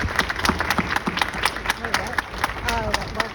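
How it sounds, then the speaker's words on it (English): Clapping from an audience honoring retirees at an anniversary ceremony for a rehabilitation center, distinct rhythmic claps with murmuring voices and chatter mixed underneath. "let's give them a round of applause as well"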